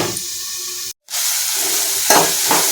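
Netthallu fish curry frying in a covered pan, a steady close hiss and sizzle broken by a brief drop to silence, then picking up again with a short louder burst.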